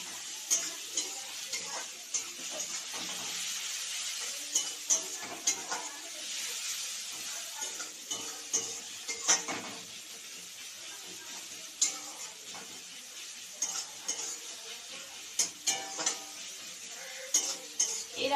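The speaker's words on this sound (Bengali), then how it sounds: "এবার পেঁয়াজটা অর্ধেক ভাজা ভাজা হবে" Onions half-frying with salt and turmeric in a pan give a soft, steady sizzle under frequent clicking taps and scrapes of a spatula against the pan, fairly close, with no talking.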